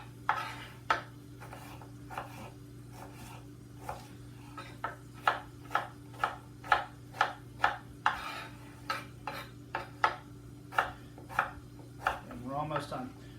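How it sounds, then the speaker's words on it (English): A knife dices pears on a cutting board in a long run of sharp, evenly spaced chops that grow steadier and louder midway, closing with a short rattling scrape; no one speaks. "Continue on my dicing rampage."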